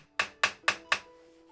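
Four crisp, evenly spaced hammer taps drive a small pin into a birch bark knife handle, each strike sharp and close with a short ring before the next.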